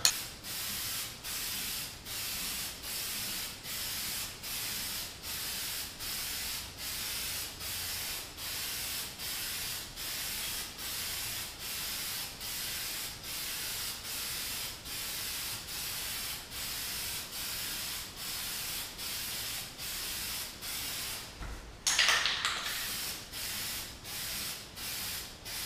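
Aerosol spray paint hisses from a can in short, evenly spaced bursts for about twenty seconds as the first coat goes onto homemade speaker cabinets. A louder, rougher burst comes near the end.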